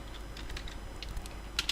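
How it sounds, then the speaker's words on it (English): Light, quick keystrokes tap on a computer keyboard, faint and close, ending in a couple of sharper clicks. "just type live server."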